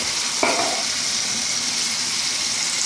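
Beans tipped into a hot pan of caramelized onions and nearly crisp bacon, a loud, steady, close sizzle with a short splashing knock as they land.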